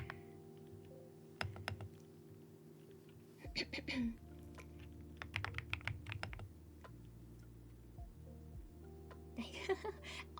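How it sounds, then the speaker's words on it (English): Slow typing on a thocky marshmallow keyboard: deep, muted keystrokes land close up in loose, uneven clusters, with a steady low hum underneath. "this is actually me typing kind of slow. So that I can articulate the sound of the keyboard more"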